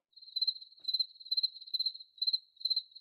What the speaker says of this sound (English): You get the crickets.